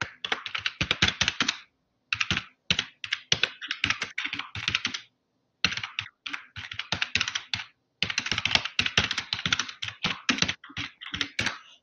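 Brisk typing on a computer keyboard, close and clear, comes in rapid bursts of keystrokes separated by short pauses, with no voice over it.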